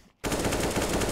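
A sudden sustained burst of rapid automatic rifle fire in Counter-Strike on the Dust II map, loud and continuous after a brief quiet start.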